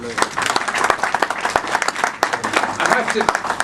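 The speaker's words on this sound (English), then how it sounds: "I think that is worth a round of applause." Audience applause at a trade union conference fringe meeting, a dense burst of many hands clapping steadily for a few seconds, loud and close.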